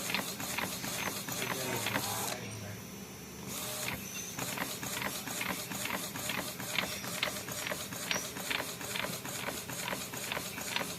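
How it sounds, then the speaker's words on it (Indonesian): An ID card printer runs a blank card through, giving a steady mechanical whir with dense rapid ratcheting clicks and gear noise, briefly easing to a softer hum partway through before the rhythmic clatter resumes. "Ini kita langsung cetak di blank card."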